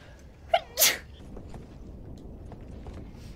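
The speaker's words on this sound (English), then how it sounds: "I just sneezed all over myself." A single sharp human sneeze bursts out close and loud after a brief intake, then fades into quiet room tone with no talking.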